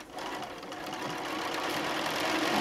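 A sewing machine runs continuously while stitching fabric for a tote bag panel, a fast, steady mechanical whirr with rapid needle ticking, close and alone without talk.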